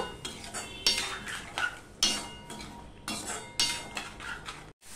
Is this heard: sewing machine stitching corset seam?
no